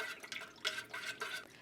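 Melted wax being poured and stirred for wax melts, a soft close liquid pouring with light irregular splashy stirring sounds, quiet and with no talking.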